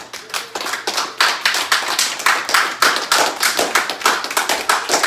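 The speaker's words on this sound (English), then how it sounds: "A praise to the Most High. Hand clap." A congregation claps hands in praise at a Feast of Dedication worship service, with dense, rhythmic, close applause repeating steadily throughout and no voices.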